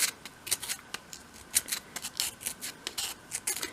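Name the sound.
sandpaper rubbing over wooden panel corner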